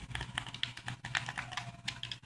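Plastic buttons on an Xbox 360 or PS3 game controller click in quick irregular bursts, close and fairly quiet, with no voices.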